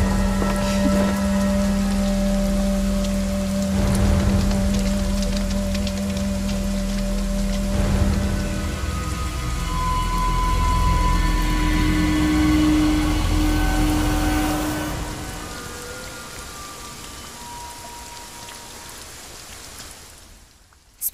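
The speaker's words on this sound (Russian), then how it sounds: "Дождь сильный." Heavy rain pours in a steady, loud, dense hiss with a deeper rumble underneath, lasting throughout and gradually easing toward the end, with faint tonal sounds in the background.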